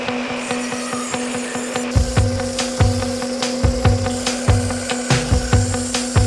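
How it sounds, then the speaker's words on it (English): A wooden template for a woodworking project is cut out with a power saw, giving a loud close steady hum broken by a rhythmic series of rasping, rubbing cutting strokes. "I'm cutting out the template here"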